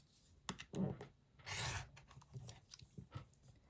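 Fabric for a quilt sampler block is cut with a few short rasping strokes and rubbing sounds, quiet and close, in irregular bursts with no speech.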